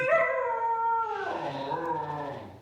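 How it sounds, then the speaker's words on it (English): A husky puppy howls alone and close by in one long, wavering, high-pitched note that slides downward and fades into a softer whine. "That's a husky puppy, fellas. That's a husky puppy."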